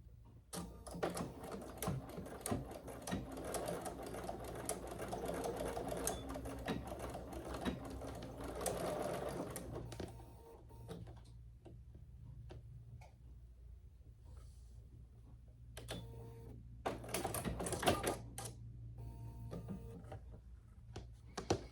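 A home sewing machine stitches a handmade holiday gift, its dense mechanical whir running loudly for about ten seconds. It then breaks into shorter stuttering bursts with ticks and pauses, as if struggling with the material.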